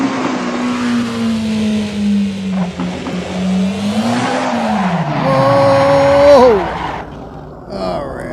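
A car runs at 60% turbo, its engine holding a loud droning pitch that dips and climbs as it drives. A sharp whining squeal rises near the end, then the sound fades out quickly.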